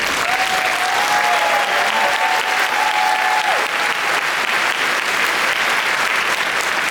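Continuous applause from a large audience at a graduation ceremony, even and loud throughout, with a brief voice or whistle-like tone riding over the clapping early on.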